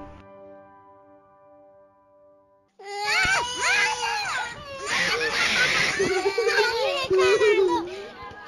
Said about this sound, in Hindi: गर्मी की छुट्टियां और बच्चों का शोर